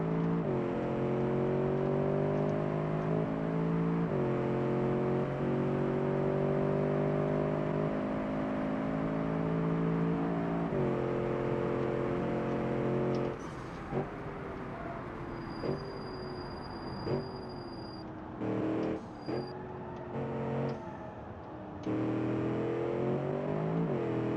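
Car engine held at full throttle through a corner, a loud sustained drone with steady rising harmonics, then brief gear-shift dips and choppy bursts toward the end.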